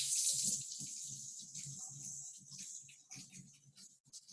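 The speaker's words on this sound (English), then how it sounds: "turn my hot water on." Hot water runs from a sink tap in a hissing, splashing stream, strongest at first and then settling into an uneven trickle, close and fairly quiet.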